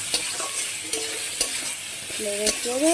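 Small fish dropped into a hot pan for a Bengali fish dish, sizzling with sharp spatters and a few clinks of a utensil, close by, while someone speaks briefly.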